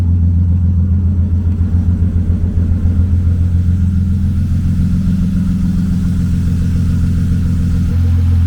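A six-cylinder BMW E36 convertible drift car engine idles steadily up close, a low, even rumble with a faint rhythmic pulse and no other sounds.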